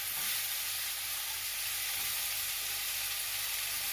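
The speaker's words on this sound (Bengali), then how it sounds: "সেই আলুগুলো কড়াইয়ের মধ্যে দিয়ে দেব নিয়ে মিডিয়াম টু লো ফ্লেমে আলুটাকে আস্তে আস্তে ভাজতে হবে" Long-cut potato sticks frying slowly in oil in a kadai over a medium-low flame, giving a steady, even sizzle with soft crackle that continues unbroken throughout.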